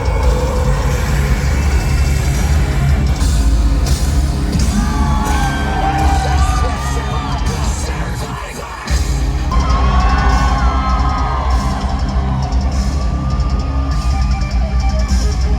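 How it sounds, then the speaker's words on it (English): A loud crowd yells and whoops throughout a live metal concert at the DCU Center, with dense, steady noise and no clear break. "here's a little clip of the concert that we went to while we were there."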